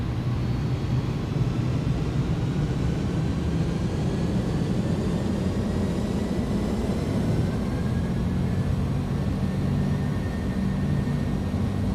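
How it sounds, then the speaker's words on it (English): Airbus A300-600ST Beluga jet engines spooling at takeoff power in X-Plane 11 at Hawarden, a steady loud rumbling roar with broadband hiss and faint rising whine, continuous and close throughout with no talking. "Takeoff power set."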